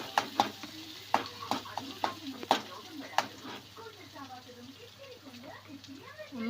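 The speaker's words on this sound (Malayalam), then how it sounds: "നമുക്ക് ചെറിയുള്ളി ഇട്ടിട്ട് എണ്ണ ഒഴിച്ച് ചൂടാക്കുക." Shallots frying in heated oil in a home kitchen, giving a soft sizzle with several sharp clinks and stirring taps early on, while a voice talks over the latter half.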